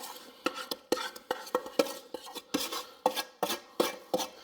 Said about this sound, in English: I can simply scoop the rest of this in a little more quickly